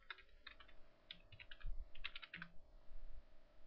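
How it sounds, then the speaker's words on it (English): Someone typing a name on a computer keyboard: quick, uneven bursts of close clicking keystrokes with short pauses between them, no voice. "Type in my own name."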